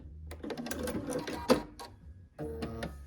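A sewing machine stitches a quilt block seam in short close whirring bursts, pausing briefly before running again, fairly loud in a quiet room.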